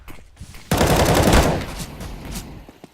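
A sudden loud burst of automatic gunfire in a CS:GO professional match, rapid close shots for about a second that then trail off into fainter echoing reports.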